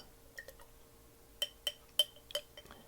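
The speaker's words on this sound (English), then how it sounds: "I mix it up in a big old glass jar." Wood stain being stirred in a large glass pizza sauce jar: a series of about six sharp, bright clinks at irregular intervals, close and fairly faint against a quiet background.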